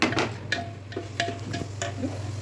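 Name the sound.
onions, curry leaves and cashews frying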